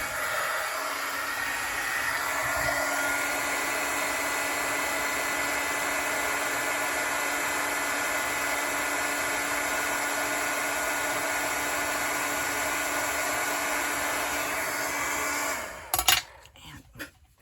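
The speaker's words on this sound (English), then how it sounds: "Grab my heat tool, so watch your ears." Embossing heat gun blowing steadily and fairly loudly for about sixteen seconds while heat-setting a Christmas card, a continuous whooshing hiss with a faint whine, then it cuts off, followed by a few clicks and handling sounds.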